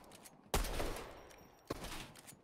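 Gunfire in a video game: two sharp, loud bursts about a second apart, each trailing off into a noisy rumble, with no talking over them.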